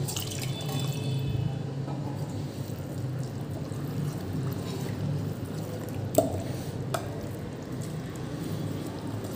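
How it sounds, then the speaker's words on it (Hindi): Water pours into rava batter in a pot, a soft continuous trickle and splash heard close by, with a couple of brief clinks partway through and no talking. "इसमें पानी और ऐड करेंगे।"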